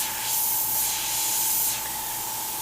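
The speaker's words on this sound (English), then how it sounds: "Sometimes I get caught like airbrushing without a mask with it" Airbrush spraying candy dye paint, a close continuous hiss that swells and fades over a couple of seconds with no talking.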